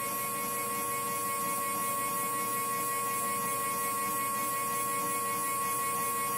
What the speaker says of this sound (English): I'll try and make myself heard above the noise of the machine. What you're seeing here being machined are some splines.